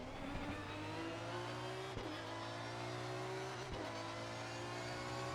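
An Aston Martin V12 race car lapping Bathurst, its engine a continuous high droning whine with two sharp gear-change breaks and rising pitch sweeps, steady and fairly faint.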